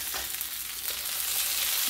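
Potatoes fry in a pan with a steady, close sizzle and crackle that runs unbroken, with a few brief stirring scrapes and no voices.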